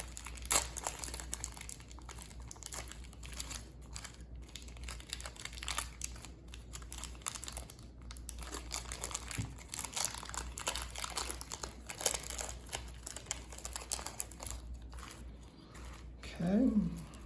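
Packaging being torn and crinkled away while unboxing a Guinand Flight Engineer watch, a faint close rustle and crackle of paper and plastic in scattered bursts, with a voice speaking now and then.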